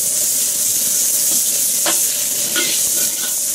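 Beef chow mein stir-fried in a wok over high heat, a steady loud sizzle with a few scraping clinks of the utensil against the metal, no voices.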